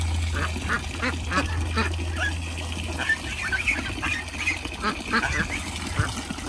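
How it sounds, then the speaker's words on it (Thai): Muscovy ducks quack repeatedly while playing in water, with busy overlapping calls and splashing over a steady low hum from start to finish. "ปากชมพูนี้เป็นเป็ดบาบารี่ค่ะทุกคน"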